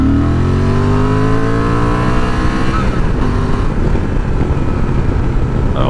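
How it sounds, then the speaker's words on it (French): Honda Transalp 750 A2 motorcycle, 2024 model, accelerating hard: a loud close engine whose pitch climbs steadily through the revs, then drops into a rougher, grittier roar after a shift. "On va tester l'accélération."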